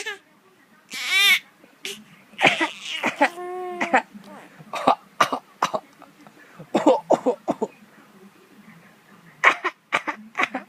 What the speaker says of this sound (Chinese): 是谁教你要这样假装咳嗽？